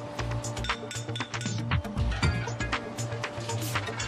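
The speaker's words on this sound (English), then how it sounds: "Then a tray for the ash and a cast iron grate are put into place." Metallic clinks and clanks as an ash tray and a cast iron grate are set into place in a wood burning stove at a factory, a quick series of sharp close knocks over a steady background hum.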